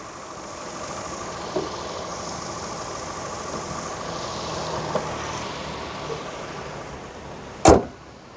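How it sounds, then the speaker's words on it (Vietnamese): A 2014 Kia K3 with a 1.6 engine and automatic gearbox idles with a steady, even drone for several seconds, broken by a few faint clicks and one sharp knock near the end. "máy nổ miễn chê luôn"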